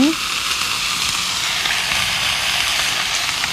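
Onions stir-frying in hot oil with fried black bean paste (chunjang) for jajangmyeon give a loud, steady sizzle and hiss, opening with a brief clatter and holding a continuous bubbling crackle throughout.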